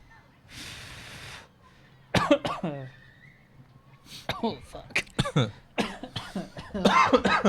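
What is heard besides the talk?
coughing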